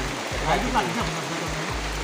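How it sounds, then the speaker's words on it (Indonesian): Heavy rain pours steadily in a mountain valley where runoff collects near a cave, a dense broadband wash like a stream, with someone speaking briefly over it. "Ini suasananya hujan lebat."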